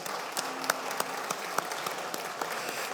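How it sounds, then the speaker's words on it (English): Audience applause for a conference panel at an expo opening, steady dense clapping from a crowd throughout with a few sharper individual claps standing out. "could I have a round of applause for our panel?"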